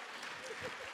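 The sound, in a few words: workshop audience applause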